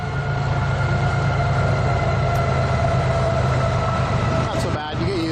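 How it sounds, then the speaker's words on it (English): A train rumbles past steadily with a continuous loud roar and a low mechanical drone, a brief squeal near the end, a voice talking faintly underneath. "There's a train going by."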